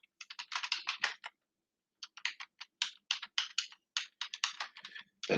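Quick bursts of typing on a computer keyboard, close and clicky, with a short pause partway through before the rapid keystrokes resume, and no voices.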